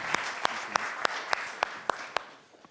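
Audience applause at a summit plenary opening, a dense bed of clapping punctuated by sharp, evenly spaced louder claps about three per second, fading toward the end.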